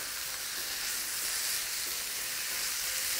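Chicken livers sizzle and crackle steadily in a hot pan while being stirred, a close, continuous frying hiss with no talking.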